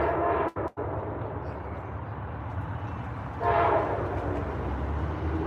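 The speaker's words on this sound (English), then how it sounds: "We're gonna wait till the train goes by." A train rumbles steadily past at close range, its broadband roar continuous throughout and swelling louder midway as the cars roll by, with no voices over it.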